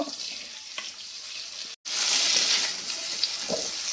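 Eggplant slices for Begun Rani fry steadily in hot oil with a close, continuous sizzle; a brief dropout breaks the sound just before the second mark, then the hiss resumes, with a faint clink near the end.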